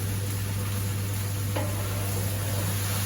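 Prawn ghee roast masala sizzles steadily in a pan while being stirred, a dense, loud frying hiss with a low hum beneath and one faint scrape of the spoon.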